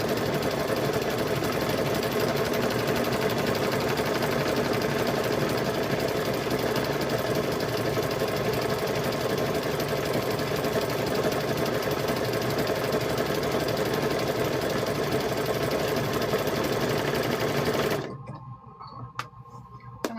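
A sewing machine runs steadily for about eighteen seconds, blanket stitching down a quilted handbag, with a dense mechanical whir and rapid needle rhythm before stopping abruptly into near silence.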